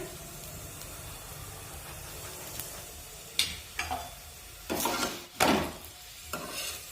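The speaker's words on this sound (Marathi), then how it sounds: "पलटून घेऊया आणि पुन्हा वरून तेल लावून घेऊया" Sesame and jaggery flatbread fries in oil on a pan, with a quiet steady sizzle broken by louder hissing bursts as the pieces are turned and oil is added.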